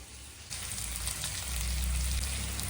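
Fish half-fried in a pan in a home kitchen, hissing and sizzling steadily in hot oil, growing louder and denser partway through, with a low burner rumble beneath and no talking.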